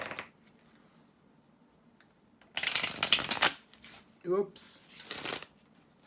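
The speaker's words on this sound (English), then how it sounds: "bear with me a second, guys, to shuffle the tarot cards" Tarot cards are shuffled in two brisk, riffling bursts close to the mic, with a short clatter between them. Someone speaks briefly in a quiet room.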